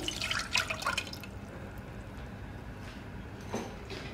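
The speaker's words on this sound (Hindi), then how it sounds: "अब हम इसमें डालेंगे इमली का पल" Tamarind pulp pours into a saucepan over a medium-low flame, a short burst of close liquid splashing and dripping at the start, followed by quieter faint trickles and one soft clunk.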